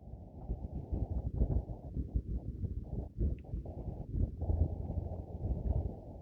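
Outdoor wind gusting and buffeting a microphone, a steady low roar that swells and dips throughout, close and fairly loud with no voices.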